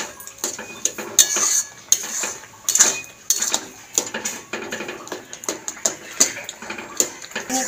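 Tomato chutney with sugar is stirred in a pan, giving repeated scraping and clinking of a metal spoon against the pan in an irregular rhythm, close and clear, with a faint sizzle underneath.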